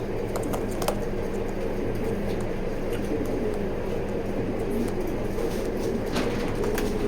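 Pigeons in a loft, housed breeding hens, give a steady bed of low cooing and bird rustle with occasional clicks and wingy taps, moderately close and continuous throughout, with no talk.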